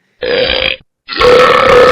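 Two loud, close burps from a computer sound effect on an old Windows XP machine, each about half a second long and split by a brief silence, with no talk.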